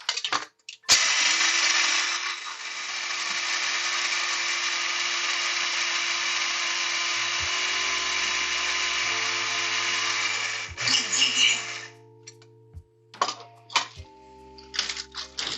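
An electric coffee grinder whirs loudly and steadily for about ten seconds as it grinds beans, then winds down, followed by clicks and knocks of handling the grinder in a quiet room.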